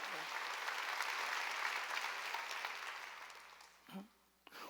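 Congregation at a Wednesday church worship service applauding together, a sustained loud burst of clapping that gradually thins and fades, ending with a few scattered claps.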